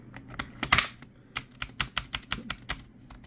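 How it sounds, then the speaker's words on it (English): Keys click steadily on a colorful typewriter-style wireless keyboard with round keycaps, a quick run of crisp, close taps with an uneven rhythm. "I'm typing in and it's really smooth."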